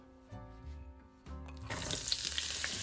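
Chopped onions drop into heated olive oil in a pot, a quiet background hum giving way to a sudden broadband crackling sizzle that keeps spitting and popping steadily, close and fairly soft.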